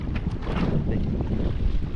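Strong wind blasting against the microphone outdoors, a loud continuous low rumble and buffeting with no pauses, covering everything else.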